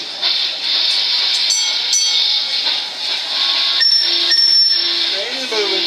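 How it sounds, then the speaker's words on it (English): Conch Train tour train rolling through Key West, a steady broad rumble and hiss with faint squeals and a brief low tone near the end, a guide's voice talking over it. "Train is moving."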